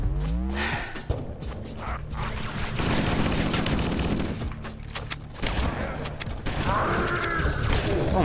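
Shotgun blasts from the Halo video game, a few loud booming shots among dense game effects and mechanical clatter, with a brief sigh-like vocal sound.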